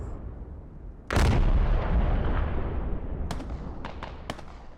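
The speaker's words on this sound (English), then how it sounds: "Looks like INS forces throwing all of the indirect fire they can on the bridge." Indirect artillery fire falling on a bridge in the Squad military shooter game: a loud, close blast after one second rolling into a long rumble, followed by several sharper distant reports and cracks, with no talk.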